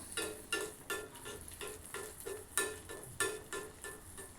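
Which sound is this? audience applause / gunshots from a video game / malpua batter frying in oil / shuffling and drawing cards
malpua batter frying in oil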